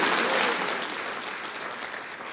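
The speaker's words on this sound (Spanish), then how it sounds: "¿Cuántos le pueden dar un aplauso a este Dios que es fiel?" Church congregation applause, a dense wash of many hands clapping that starts fairly loud and slowly tapers off over a couple of seconds.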